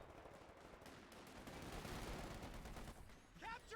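A .50 cal machine gun fires sustained, rapid bursts in the Company of Heroes 2 strategy game, dense and loud in the mix, with a short tonal effect near the end.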